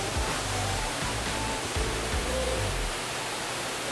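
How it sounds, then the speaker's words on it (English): A rainforest waterfall produces a steady, dense roar of falling water at a constant level throughout, with no voices heard. "You can see that waterfall."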